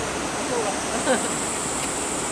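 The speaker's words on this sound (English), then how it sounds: "This water is all up on the freaking steps." Rushing water surging up onto steps at the water's edge in Yamaguchi Prefecture, Japan, a steady broad roar of flowing water holding throughout with one brief louder splash midway.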